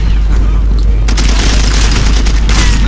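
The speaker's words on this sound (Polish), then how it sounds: "Ale pod strzałem jestem." Gunfire and blasts from the video game Far Cry 2 are loud and dense, booming shots and bursts packed together with heavy low rumble throughout.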